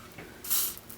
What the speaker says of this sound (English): And just kind of lift my hair, spray underneath.